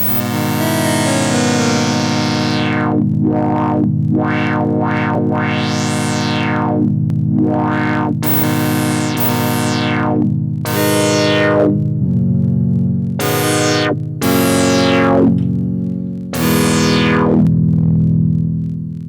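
Yamaha PS-3 synthesizer, fully modified, sounding sustained loud tones whose filter sweeps open and closed repeatedly, with bright swells and sudden cutoffs shaped by the ADSR envelope, played alone with no voices.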